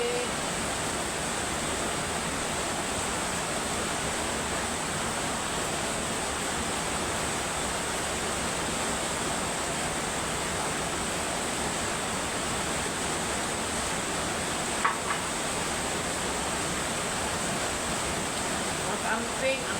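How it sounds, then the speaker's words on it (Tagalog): Steady rain falls in an even, unbroken hiss that stays at a constant level throughout, with a couple of faint, brief knocks near the end. "Oy, uwan, dahan-dahan lang eh."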